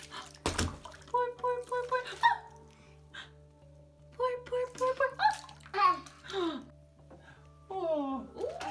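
Water splashes and pours in a child's bath during play, with a toddler babbling and vocalizing in short bursts over the intermittent watery sounds close by.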